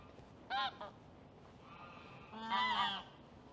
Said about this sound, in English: The geese are having a bit of a chat.